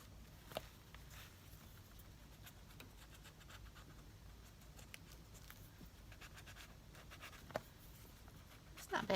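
A Stabilo All pencil scratching across paper in soft, steady strokes, faint and close, with a few sharper scrapes and taps scattered through.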